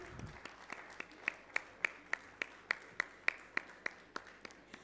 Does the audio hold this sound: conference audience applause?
yes